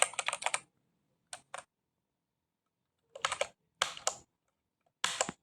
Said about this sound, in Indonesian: selanjutnya kita lihat dengan ketik show slab status garis miring G.